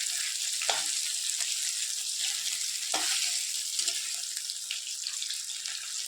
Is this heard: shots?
no